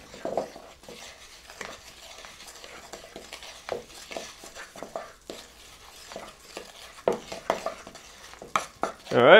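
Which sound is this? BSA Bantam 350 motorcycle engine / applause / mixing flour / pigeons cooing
mixing flour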